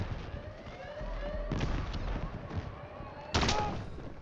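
Gunshots ring out in Battlefield 6, a few sharp cracks spaced apart amid a busy battlefield backdrop, the final shot sounding nearest and loudest.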